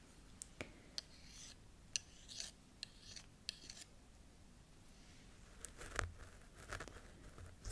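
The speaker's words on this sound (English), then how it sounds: "So just scratching again." Fingers scratch and rub across a scalp during an ASMR scalp check, producing close, soft rasping strokes in irregular short bursts with faint crackles.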